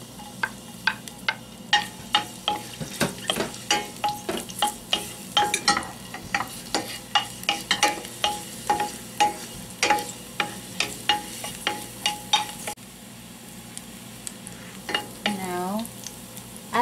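Garlic fries in hot oil in a pan, giving a steady close sizzle broken by repeated sharp ticks and scrapes as it is stirred, then easing to a quieter crackle near the end.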